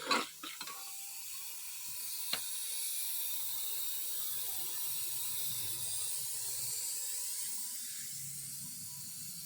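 Water is poured into a pan of frying potatoes, a brief loud splash and crackle at the start, one sharp clink, then a long steady steaming sizzle without voices.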